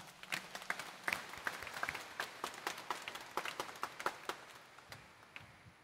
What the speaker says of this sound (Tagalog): itaas nga ang kamay at pumalakpak ng mas malakas